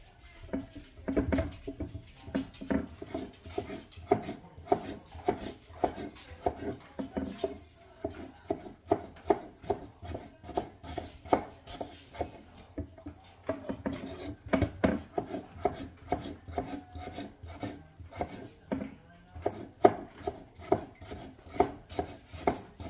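Potatoes being chopped on a wooden cutting board for a simple poor man's soup, a steady run of close, crisp knife taps and scraping strokes with uneven rhythm, no talking.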